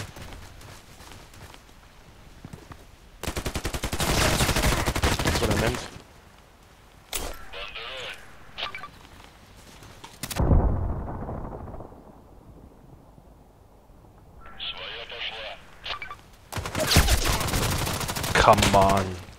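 Gunfire in the Contract Wars video game arrives in several loud bursts of rapid automatic fire, separated by quieter gaps holding softer shots and rustling, with a sharp close blast near the middle.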